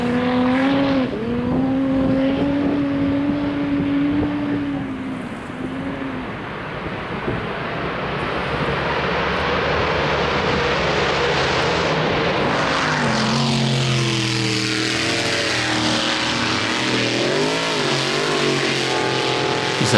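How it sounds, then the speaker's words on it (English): Racing power boats at Windsor on the upper Hawkesbury River roar past, loud turbocharged engines rising and falling in pitch as the turbo comes on, with a dense, continuous engine drone that shifts as boats pass nearby. "So if you listen now, you'll hear this turbo thing coming in now."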